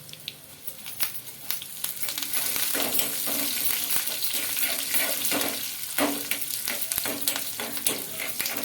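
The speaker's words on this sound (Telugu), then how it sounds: "పోపు అయితే ఇంకా పెట్టేస్తున్నానండి వెల్లుల్లి రెబ్బలు అలాగే కొంచెం పోపు దినుసులు వేసుకోవాలి అలాగే ఎండుమిర్చి అలాగే కరివేపాకు" Garlic cloves, tempering spices, dried red chillies and curry leaves crackle in hot oil, a close, busy sizzle with frequent pops and stirring scrapes throughout.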